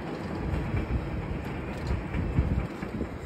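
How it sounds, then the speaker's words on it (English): A freight train rumbles past at a distance, a steady low rolling noise with faint rattling and some wind across the microphone. "A freight train."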